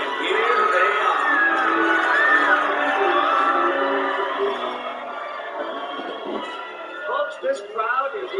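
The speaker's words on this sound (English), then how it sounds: "this crowd is going crazy over Mystery Inc." A lively crowd cheers, whoops and yells at an evening museum premiere for Mystery Incorporated, a dense continuous roar that thins slightly toward the end as a few voices break through.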